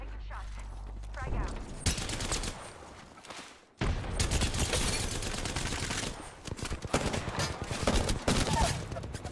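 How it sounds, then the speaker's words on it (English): Video-game gunfire crackles in sustained, dense automatic bursts that pause briefly and then resume louder, with a voice talking faintly underneath. "Opening fire."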